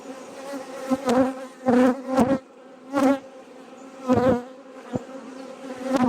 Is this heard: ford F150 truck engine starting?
no